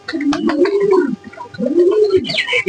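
Pigeons coo in two rising-and-falling calls, close and clear, with a brief chirp near the end.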